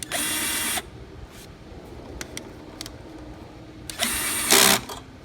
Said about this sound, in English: I'm just gonna put it in deep 10 mil socket